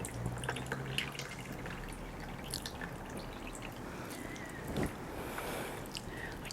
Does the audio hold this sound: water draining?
yes